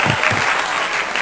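Short burst of steady congregational clapping during an online Sunday worship service, even and fairly loud, with a faint voice at the start.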